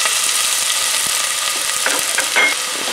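Sofrito sizzles loudly in a pot for mushroom risotto as it is stirred, a steady close frying hiss with occasional scraping spoon strokes and no speech.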